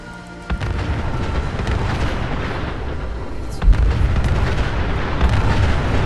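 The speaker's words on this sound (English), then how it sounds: "They're firing! Nukes inbound!" Nuclear blasts fired by Gunners in the video game Fallout 4 roll out as a loud, sustained low rumble, with a sharper boom partway through and no talking.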